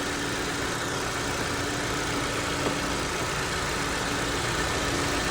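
A car engine idles steadily with its air-conditioning compressor clutch engaged during a refrigerant recharge, a continuous broadband hum and whir that stays even throughout, with no talk.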